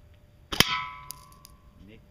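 A slingshot shot strikes a can with one sharp metallic clang that rings and decays, followed by a softer second tap and faint outdoor quiet, close and fairly loud.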